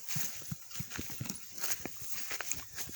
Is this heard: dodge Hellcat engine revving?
no